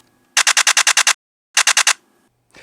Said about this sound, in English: B, a DSLR sound.